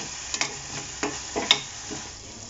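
Ginger garlic paste sautéing with onions in a pan for a roadside mushroom kaalan masala, with a soft sizzle and a few scattered stirring clicks and taps, fairly quiet and close.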